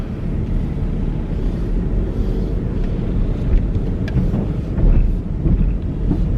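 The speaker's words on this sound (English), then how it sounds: "It is so windy, you guys." Strong wind roars and buffets the microphone in a steady, loud rumble, with gusts swelling near the end; no voices.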